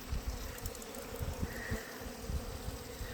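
Bees buzz around a beehive on a bee farm in Tahora, Central Taranaki, a soft, steady swarm hum with individual insects droning close by now and then, no talk.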